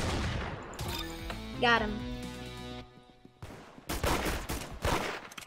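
Pistol shots in the Roblox Arsenal shooter game ring out among game music and a player's chatter, with a cluster of sharp cracks toward the end.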